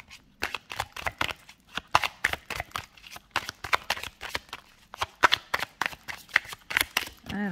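Lenormand oracle cards are shuffled in quick repeated riffles and slaps, crisp and close, in an even rhythm throughout without any speech.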